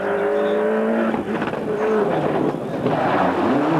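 Ford rally car engine at the 1995 Monte Carlo Rally, loud and close, revving hard through rising and falling gear changes in one continuous burst.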